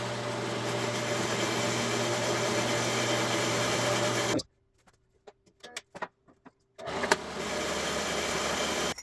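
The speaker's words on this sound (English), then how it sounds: "let's get this bad boy on the bandsaw" A bandsaw cuts through a custom exhaust pipe with a steady loud whine and grind, stops for a few seconds of clicks and handling, then starts cutting again.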